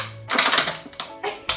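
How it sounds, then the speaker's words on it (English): Scissors cut through a plastic water bottle, giving a close, crunchy run of crackles and snaps in quick uneven bursts lasting just over a second, with no talking. "we're gonna cut our water bottles in half"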